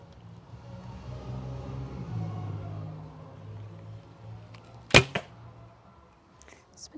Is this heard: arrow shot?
yes